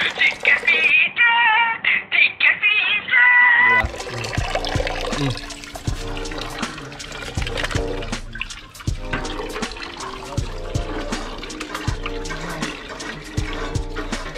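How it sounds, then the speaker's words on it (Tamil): Water running from a tap while raw chicken pieces are washed in a kitchen, a steady rushing, splashing stream with clatter and knocks, beginning after a brief burst of high tonal sound and carrying on through the rest. "நம்ம இந்த சிக்கன் பீஸை மட்டும் நான் ஸ்பெஷலாக கழுவுறேன்"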